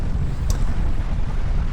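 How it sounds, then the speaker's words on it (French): A strong 25-knot north wind buffets the microphone aboard a sailboat entering the port of Le Havre in choppy seas, a loud steady low roar with a brief gust-like burst, and no voices. "Arrivé au Havre avec un vent vraiment soutenu, 25 nœuds, vent du nord"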